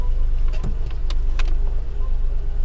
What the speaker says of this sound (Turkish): 3 silindirin hırıltısı yeni geliyor